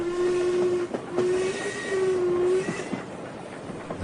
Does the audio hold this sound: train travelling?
yes